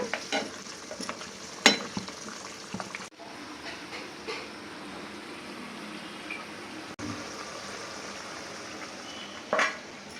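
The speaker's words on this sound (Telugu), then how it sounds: "మధ్య మధ్యలో ఇలా కలుపుతూ మగ్గించుకోవాలి" Amla (Indian gooseberry) pickle simmers in a pan with a soft, steady sizzle, stirred now and then, with a few sharp spoon clinks against the pan near the start and end.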